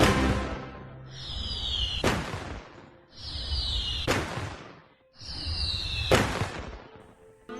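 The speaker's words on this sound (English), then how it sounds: "You get some kind of weirdly colorless fireworks." Synthetic fireworks effect from the Art Puzzle video game: three repeated bursts, each a rising whistle followed by a sharp crackling pop and broadband fizz, evenly spaced and fairly loud, with no talk.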